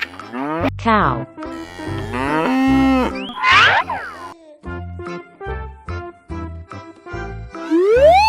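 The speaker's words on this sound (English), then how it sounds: "Cow." A cow moos in long drawn-out calls over bright, bouncy background music, fairly loud and up close.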